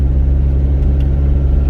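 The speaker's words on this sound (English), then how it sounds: "it's shifting a little rough, a little hard to get into gear." Engine of a 1986 Toyota pickup that sat unused for a year, rumbling steadily and loudly up close as gears are shifted with a rough, hard-to-engage clutch, with no talk.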